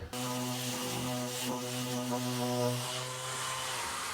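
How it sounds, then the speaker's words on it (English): A power sander grinds filler back on wooden display shelves, giving a steady, loud, close whirring drone that runs continuously and tails off near the end. "I'm going to sand all this filler back"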